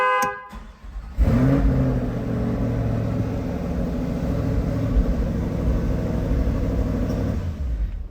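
A Chevrolet C8 Corvette fires up after a click, settling into a loud, steady, deep idle rumble close by that holds for several seconds.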